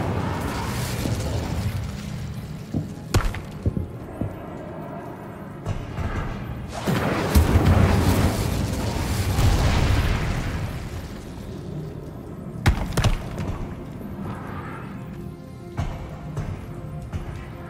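Incendio fire spell cast in Hogwarts Legacy, a run of booming fiery bursts and whooshes over a continuous game din, with louder blasts swelling in the middle and sharp pops scattered throughout.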